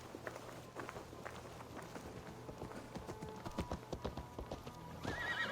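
Horse hooves clip-clop in Assassin's Creed, a steady walking rhythm that quickens into a run, with a horse whinnying and faint background music beneath.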